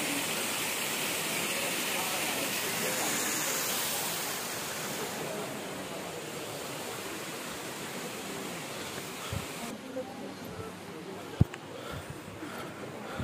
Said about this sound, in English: That's some waterfall.